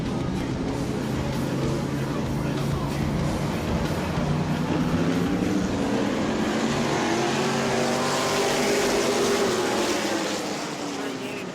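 A pack of A-Mod race cars roaring around the Auburndale track during a 30-lap feature, a continuous loud engine drone with rising and falling pitch as cars pass.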